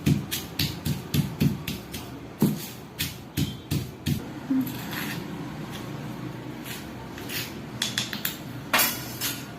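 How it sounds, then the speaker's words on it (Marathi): Coconut and roasted peanuts are pounded into a spice mix for stuffed capsicum, making a quick run of sharp, close knocking thuds that slows to a quieter stretch and then picks up again in clustered beats. "आधी आपण खोबरं वाटून थोडंसं बारीक होत आलं की मग आपण शेंगदाणे भाजलेले घालूया त्याच्यामध्ये"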